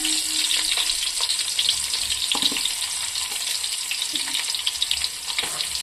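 Onions dropped into hot oil already crackling with fennel seeds, cinnamon and cloves, frying in a pan for mushroom rice, giving a steady close sizzle with scattered pops and stirring clinks throughout.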